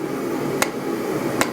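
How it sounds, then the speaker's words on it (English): A hammer strikes a steel bar twice at the forge while a taper is worked on its tip, two sharp metallic hits standing out over a steady loud roar. "Forge a steep and obtuse taper on the tip of the bar."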